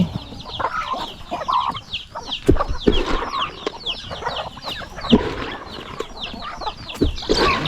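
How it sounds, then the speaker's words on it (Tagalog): Free-range geese on a farm call repeatedly at close range, a dense overlapping chorus of honks and cackles with some wing flapping and no talking. "ito yung mga gansa natin"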